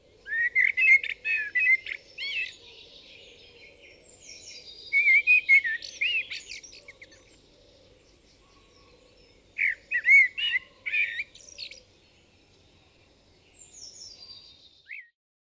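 A common blackbird sings outdoors in phrases of rich, fluting whistles, each phrase ending in higher chattering twitters, repeated after pauses over a faint steady background hum.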